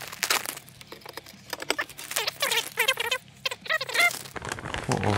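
A vacuum-sealed plastic package is torn open by hand, giving close, loud bursts of crinkling and tearing with short pauses between them.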